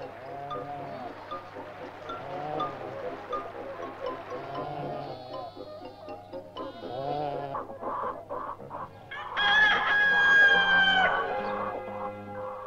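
Farm animals at a Soviet livestock and poultry farm call continuously, a mix of bleats and clucking with a louder, sustained crow-like cry late on, all close and busy over a steady low hum.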